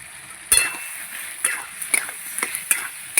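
A spoon scrapes and clinks in a pan while spices with turmeric are stirred and sautéed, soft sizzling underneath, with sharp metallic strikes spaced at irregular intervals, close and fairly quiet.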